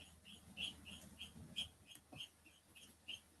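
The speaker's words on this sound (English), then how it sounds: "Whatever bird is that?" A bird calling outdoors during a district council meeting: a repeated high chirp about twice per second, faint and distant over low room noise.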